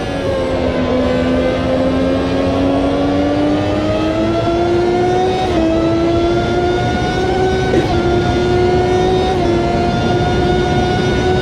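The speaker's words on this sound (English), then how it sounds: "as we brake very hard here for the Parabolica" A historic race car at Monza in the racing game Automobilista 2 braking hard into the Parabolica, its engine a loud, steady, high droning whine with a couple of abrupt small pitch drops, and no talking.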